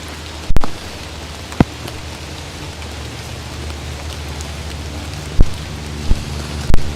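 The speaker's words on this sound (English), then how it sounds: "Rain is really coming down good now." Heavy rain pours steadily on a trail in an Alaska camp area, a dense continuous hiss with a few sharp close knocks and drips near the microphone; no voices.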